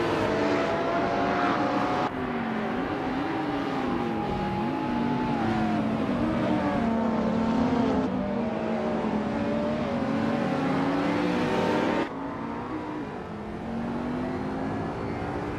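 A 1994 Ferrari 512TR and rival race cars pull away together at the start of a racing video game at the Sydney Homebush Street Circuit, giving a loud, sustained engine drone whose pitch climbs and shifts through gear changes.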